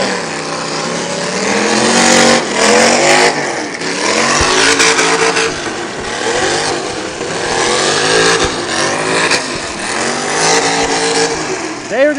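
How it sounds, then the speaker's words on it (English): A demolition derby car engine at the Sanfilippo Smash in Morris, New York revs hard at full throttle, loud and continuous with repeated rising and falling pitch sweeps, while other cars rumble and a commentator talks over it. "Plenty of power left in the 808. That motor sounds good. Coming in full throttle."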